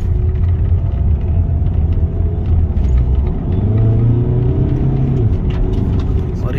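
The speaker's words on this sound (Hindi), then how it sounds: "और ये DSG किकिंग करते हुए" A Skoda Superb with a DSG gearbox drives along, its engine a steady close rumble inside the cabin with gentle rises and dips in pitch as gears change, under low road noise.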